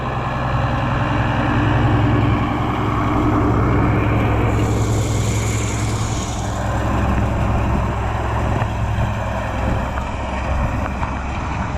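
Vehicle passing on a road outdoors, a loud continuous low rumble that swells and fades over several seconds under steady wind noise, with no talk.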